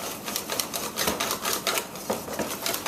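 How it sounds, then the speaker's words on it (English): A whisk beats pholourie batter in a bowl with rapid, steady clicking strokes, close and fairly loud, with no voices over it. "keep mixing it until I have a smooth batter"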